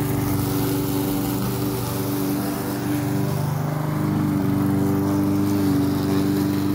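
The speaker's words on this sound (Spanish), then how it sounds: "Estoy cortando el pasto, cortando la grama, ¿no?" Lawn mower cutting grass in the United States, a steady, loud engine drone holding constant without pause, close by and alone.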